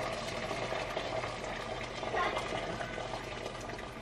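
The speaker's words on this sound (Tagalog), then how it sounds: "Nagpakulo na ako ng tubig." Water bubbling at a steady rolling boil, a continuous low churning hiss that stays fairly quiet and even throughout.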